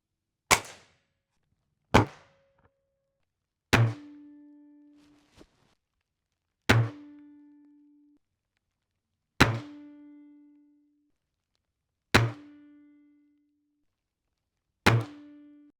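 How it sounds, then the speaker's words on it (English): A Hatsan Model 85 .22 camo break-barrel air rifle fires pellets at a target: seven sharp, loud cracks spaced about two seconds apart, each followed by a short metallic ring, with no talk. "pop the pellet in, we crank that, we're going to shoot bottom right on there"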